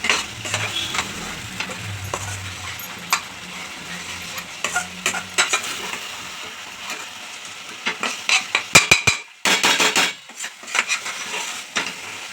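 Spicy chicken gravy masala sizzles and fries in a pan while a spoon stirs and scrapes it, steady close sizzling broken by repeated clanks and scrapes against the pan, no voices.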